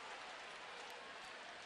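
Baseball stadium crowd during a game, a steady broad roar of cheering and noise that holds evenly throughout, fairly distant and with no clear talk standing out.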